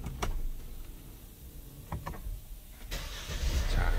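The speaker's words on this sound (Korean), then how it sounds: "자, 이렇게 시동을 걸었습니다." A car engine is started after the battery terminal is tightened: a quiet interior with a few soft clicks, then a sudden crank about three seconds in that rises into a steady, close running rumble.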